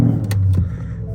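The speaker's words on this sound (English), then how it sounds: "let's fire up the car." A Ford Mustang's engine fires up at a drag strip, with a loud low rumble and a quick burst of revving that settles into a rough idle, close by.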